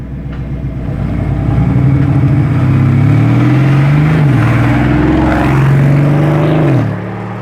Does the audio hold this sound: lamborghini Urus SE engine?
yes